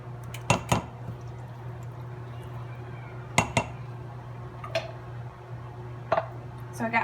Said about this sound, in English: Let's get a spoon and rake this out.